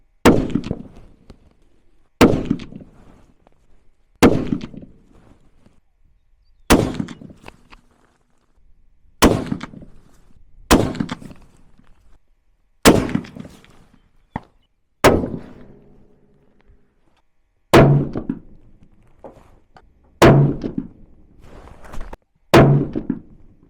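Bolt-action rifle shots at an outdoor range, about eleven loud, sharp reports spaced roughly two seconds apart, each with a decaying echo and softer handling noises between shots.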